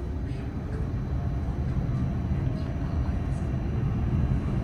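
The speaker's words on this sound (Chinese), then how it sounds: "电车出发" A Wuyi Line 1 tram, Fujian's first tram line, pulls away from a station with a steady, heavy low rumble and a broad hiss. The sound stays constant and fairly loud throughout.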